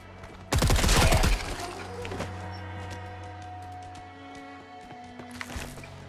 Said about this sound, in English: is that gunfire coming from the dam?